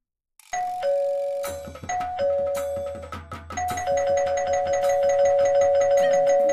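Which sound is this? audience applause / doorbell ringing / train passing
doorbell ringing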